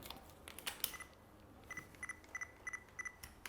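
An iPhone X camera taking a real estate shot indoors with the flash off, giving a series of faint, soft, evenly spaced shutter clicks close by after a few scattered handling taps, with no talk.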